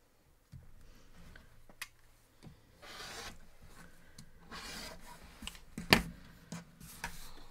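Fabric for a wild goose chase quilt block being trimmed: a series of close, dry rasping and rubbing strokes in uneven bursts, with a few sharp taps, and no one speaking.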